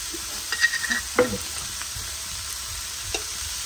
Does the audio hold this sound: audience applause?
no